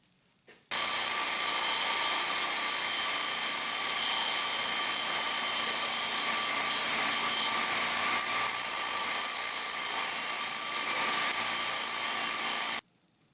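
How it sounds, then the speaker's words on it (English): An 8-inch grinder grinding excess wood off knife handle pins, a loud, steady high whir with an abrasive rasp, starting abruptly and running without pause before cutting off. "do some rough reduction with this 8-inch grinder here"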